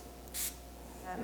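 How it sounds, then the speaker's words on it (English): A spray bottle gives a single short hiss as bleach mists onto a gray T-shirt, quiet and brief, followed by faint rustling. "And what I'm going to do is kind of go through again and give it a spray."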